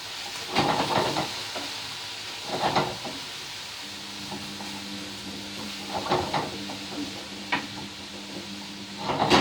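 Vegetables for a pasty filling, including half-cooked potatoes, are stirred in a hot pan: a soft sizzle runs throughout, broken by several scraping strokes of a utensil across the pan, close and clear.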